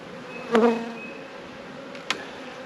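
Honey bees buzzing close by around a hive: one loud buzzing pass, then a shorter buzz a moment later over a low, steady hum.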